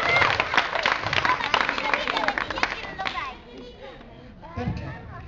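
Applause at a children's summer camp family event, brisk scattered clapping from a small audience for about three seconds, then fading into murmuring voices.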